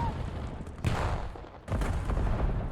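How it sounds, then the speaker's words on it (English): Grenade explosions in a PV Black versus VENM Black Vipers esports match, two loud booming bursts in quick succession over a dense, noisy game mix, each blast swelling sharply then trailing into rumble. "Nades coming in, everybody blown to bits."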